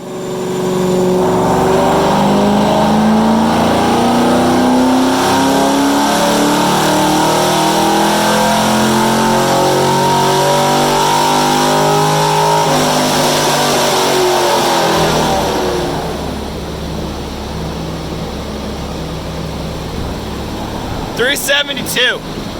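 A tuned car's engine on a shop dyno runs loudly and steadily through the gears for about fifteen seconds with rising and falling harmonic sweeps, then drops to a quieter idle, with a few sharp clicks near the end.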